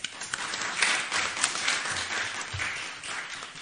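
An audience applauds at an Italian book presentation on digital ethics, a dense, even wash of clapping lasting a few seconds with no talk over it.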